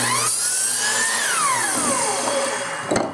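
Power drill boring a hole through a screwed-together scrap mold, a high whine that rises in pitch and then slides down as it loads, continuous and close, ending with a brief clatter.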